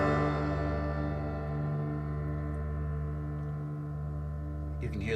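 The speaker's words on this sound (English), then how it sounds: "You can hear the pianos decaying." Two stacked piano tracks play Ds and Gs from a song's opening chord, a single struck chord left ringing as it gradually fades, with a faint knock near the end.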